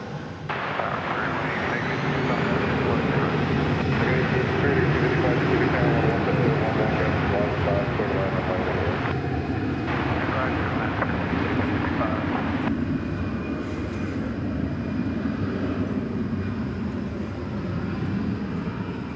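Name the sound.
American Airlines A319 jet departing DFW for Monterrey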